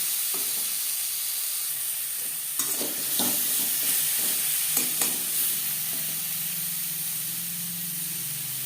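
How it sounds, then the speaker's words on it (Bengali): Raw mango pieces fry with salt and turmeric for a sweet chutney, giving a soft continuous sizzle broken by several sharp stirring scrapes and spatters midway before settling into a quieter hiss. "লবণ হলুদ দিয়ে আরও 2-3 মিনিট আম ভেজে নেব।"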